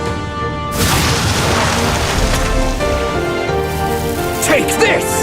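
Fire attack spell effect in Metaphor: ReFantazio, a loud roaring burst that sustains for several seconds over game music, with a spoken voice near the start.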